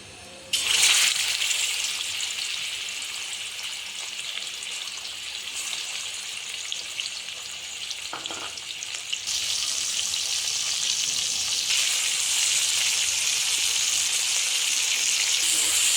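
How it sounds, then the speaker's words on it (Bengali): Salted chicken meat frying in a pan for chicken soup, a steady close hiss and sizzle that runs throughout and swells louder in the latter half, with no talking. "মাংসটাকে লবণ দিয়ে মাখিয়ে নিয়ে এবার মাংসটাকে ফ্রাই করে নেব"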